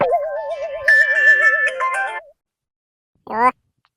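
A loud electronic phone ringtone plays a warbling melody for about two seconds, then a short burst of the tune repeats after a pause.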